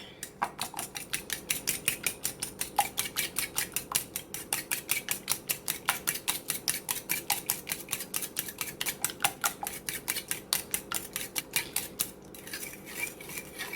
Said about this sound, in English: just whisk that together